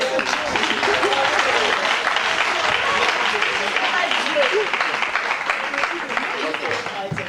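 A church congregation applauds to acclaim the Lord, with continuous, full clapping filling the space for several seconds and crowd voices mixed in.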